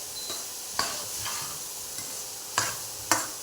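Vegetables for veg momos fry in a pan with a steady soft sizzle, punctuated by several sharp scraping stirs of a spatula against the metal.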